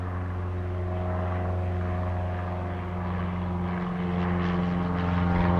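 A small Cessna propeller airplane drones steadily overhead near a nature center and river in Tokyo, its engine hum sustained and fairly loud, with no voices.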